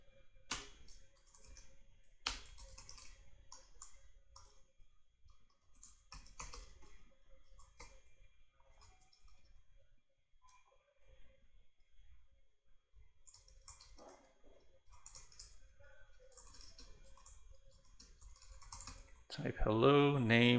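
Typing on a computer keyboard while writing C code, with scattered bursts of key clicks separated by pauses, fairly quiet and close, ending in a louder tonal sound.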